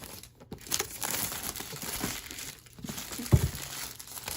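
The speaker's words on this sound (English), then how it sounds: "All this plastic wrap." Plastic wrap is crinkled and torn away while unboxing Sony WH-XB900N headphones. Close, bursty rustling and crackling comes in several irregular handfuls, with one sharper crunch near the end.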